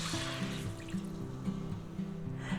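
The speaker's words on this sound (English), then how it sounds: "We're going to pour that right in there." Juices from a sous vide chuck roast poured into a pan, a soft continuous trickle and splash heard faintly against a background musical tone.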